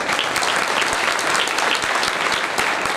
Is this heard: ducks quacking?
no